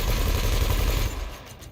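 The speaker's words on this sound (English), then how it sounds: "Multi-cannon is going to be my secondary weapon, and it's going to be bound to secondary fire" A multi-cannon fires in the Elite Dangerous space game, a dense continuous rattling burst that holds steady for about a second, then cuts off into a fading tail.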